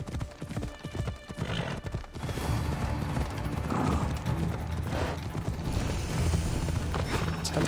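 Horse hooves galloping in the video game Assassin's Creed Odyssey, a fast continuous clip-clop rhythm with creaking tack, loud and close throughout, with a brief whinny-like sound.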